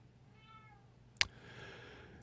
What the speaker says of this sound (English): Yes, you hear the cat.